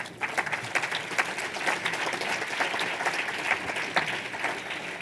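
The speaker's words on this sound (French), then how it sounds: "Je vous demande de les applaudir" An audience at a COP21 women's day event applauds long-time women activists, with dense, sustained clapping from many hands throughout, even in level and slightly distant.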